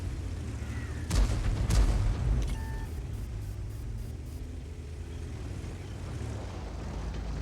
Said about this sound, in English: And the Arty's starting to fire in as well